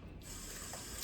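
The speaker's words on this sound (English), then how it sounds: "So now I'm gonna rinse that out." Tap water sprays steadily into a kitchen sink over chicken wings being rinsed, a continuous soft hiss that starts abruptly and stays even for the brief moment, fairly faint and close.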